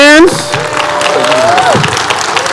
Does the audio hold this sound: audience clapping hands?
yes